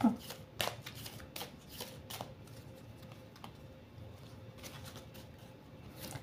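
A deck of oracle cards being cut and handled for a five-card spread, with soft rapid riffling and card flicks close by, quiet overall, alongside a few faint clicks.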